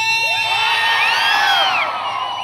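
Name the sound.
audience cheering and shouting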